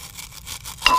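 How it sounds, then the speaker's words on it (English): Metal showerhead being scraped to remove mineral deposits: a short, fairly quiet scratchy rasp followed by a brighter clink near the end, with no talking. "And we'll scrape it down a little bit."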